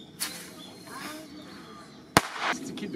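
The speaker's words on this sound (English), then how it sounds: "There's a lady up there shooting fireworks." Fireworks are fired from a mountaintop in Japan to scare crows away, two sharp distant pops about two seconds apart, with a bird call and faint background murmur between them.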